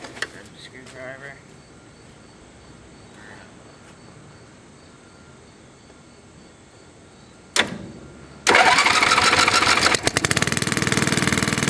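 A Tarco sander's small engine cold-starting without choke: quiet fiddling and faint clatter, a sharp pull, then the engine catches and roars steadily loud at close range.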